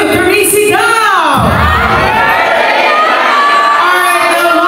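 A birthday party group yells a happy-birthday greeting in unison, loud and close, the voices sweeping up into a cheering crowd shout with whoops that hold on to the end.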